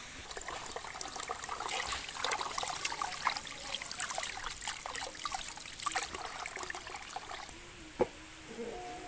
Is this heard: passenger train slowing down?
no